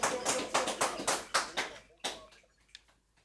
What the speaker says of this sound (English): give us the loudest applause you could get for Hakeem Green